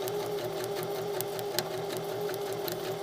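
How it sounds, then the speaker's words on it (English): A sewing machine stitching a blind hem, its close, rapid mechanical whir running evenly with a steady motor hum and faint ticks of the needle. "Now that I've got it where it needs to be, now I just have to sew, and I'm hemming."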